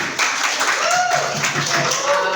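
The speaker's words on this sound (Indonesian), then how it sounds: "Tepuk tangan untuk kita semua." A classroom of students applauding together, steady dense clapping at moderate volume with voices mixed in throughout.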